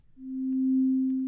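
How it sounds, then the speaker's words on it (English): A single steady sine tone from the SmplASketch sampler, shaped by an envelope. It fades in quickly, then holds clean, loud and constant for over a second with no talking. "it's this sine wave played through this envelope"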